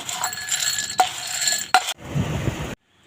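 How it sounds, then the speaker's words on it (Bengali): Cleaned chickpeas poured into a bowl, a steady rattling patter of dry grains with a couple of sharper clinks, close, ending in a brief softer rustle before silence. "ছোলাগুলো একদম পরিষ্কার করে নিয়েছি যতটা সম্ভব এখন এই বাটিতে ঢেলে নেব"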